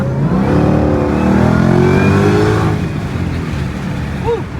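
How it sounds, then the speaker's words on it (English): Stock Shelby GT500 with factory supercharger, blower and pulley, accelerating hard in a pull: a loud rising engine roar with whine climbing in pitch for almost three seconds, then easing off into a quieter drone. "I just really want you to hear this supercharger"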